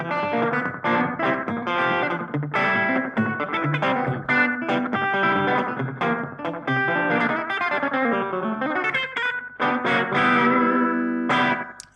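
Gretsch Brian Setzer Black Phoenix electric guitar picked through an effects chain, a continuous run of bright plucked single notes and double-stops with distortion and echo, up close, no talking.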